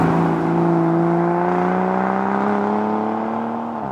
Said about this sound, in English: And then it makes the noise. That could only ever be one car,